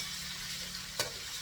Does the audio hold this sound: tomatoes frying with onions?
yes